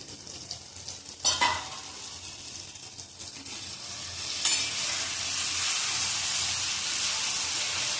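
Guava vegetable curry cooks in a pan over a low gas flame, with a soft sizzle and a couple of utensil knocks, then a steady, louder hiss of steam and frying that continues to the end.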